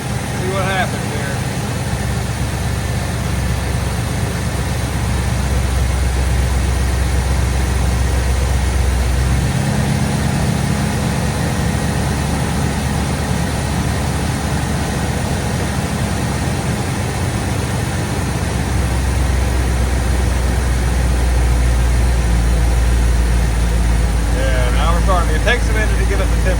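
A Ford 5.0 fuel-injected truck engine from the 1987–1995 era idles steadily while warming up, a constant loud low rumble with a brief shift in tone partway through.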